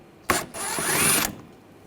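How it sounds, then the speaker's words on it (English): Ratchet with an 8mm socket loosening a fog light screw on a 2007-2013 BMW 328i, a short close burst of rapid clicking and whirring lasting about a second. "you're going to take these screws out, use a 8mm socket."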